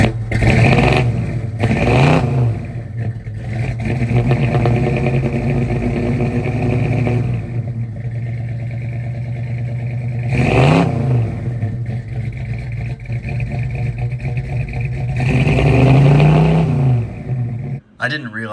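The engine of a 1979 Mercury Capri, cold-starting rich with a slow-opening choke, runs at a steady, loud idle and rises in revs several times, with brief surges near the start, middle and end.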